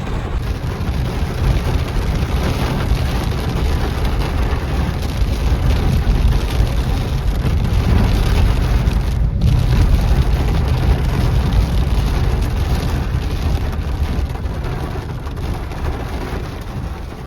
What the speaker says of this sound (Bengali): আবার বৃষ্টি শুরু হয়ে গেছে